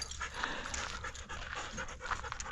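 A tired Husky-type dog panting hard at a dog park, rapid rhythmic breaths heard close over faint outdoor background noise.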